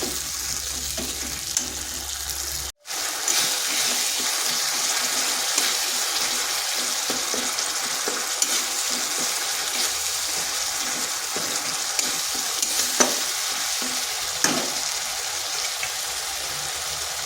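Tomato cooks down with spices and salt in a hot pan, a long steady sizzle punctuated by intermittent clicks and scrapes of stirring, with one brief dropout early on.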